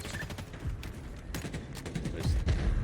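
Gunfire from a sniper and other weapons crackles in a Halo Infinite Big Team Battle match, with a quick cluster of sharp shots and bursts over continuous game noise.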